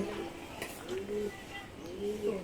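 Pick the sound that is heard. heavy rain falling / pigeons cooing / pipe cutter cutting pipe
pigeons cooing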